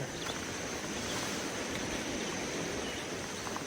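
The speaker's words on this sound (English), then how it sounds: "we are on the Caddo River in Norman, Arkansas" The Caddo River at Norman, Arkansas flows with a continuous, even rushing wash of water, close and unbroken, with no talk.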